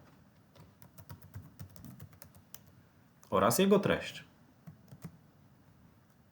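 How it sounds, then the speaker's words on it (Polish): A computer keyboard clicks in scattered soft taps as text is entered into an editor on a learning platform, and a voice speaks briefly partway through. "W wyświetlonym edytorze należy wpisać tytuł zadania"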